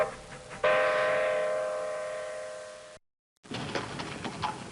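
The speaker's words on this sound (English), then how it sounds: "you watched the locomotive come roaring around the" A model train locomotive sounds a sustained tonal whistle that fades slowly over a rumbling run, then cuts out briefly before clattering, rolling train noise resumes.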